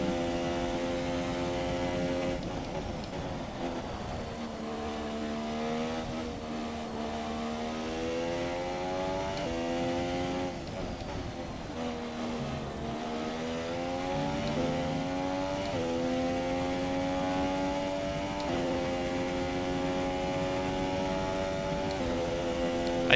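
Mercedes V6 Formula 1 engine in a racing video game at Spa, a sustained high-revving whine climbing and dropping through repeated gear changes, steady and close with no talk.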